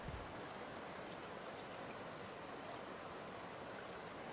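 A gold-bearing river flows as a steady, broadband wash of running water, continuous and even throughout with no voices over it.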